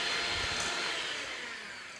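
An electric mixer whisks a mixture toward stiff peaks for tiramisu. It gives a steady, loud whirring drone that runs the whole time with no talking, easing slightly toward the end.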